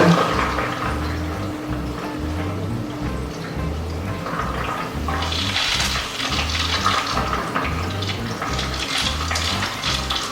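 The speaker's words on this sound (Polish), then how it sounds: "O, deszczownia zaczyna ruszać, odpowietrza się." An Aquael Hypermax 4500 BT canister filter running at full power on a 450-litre aquarium, its spray bar starting up and bleeding air: steady rushing, splashing water with gurgling bursts, growing brighter and busier partway through, no talk.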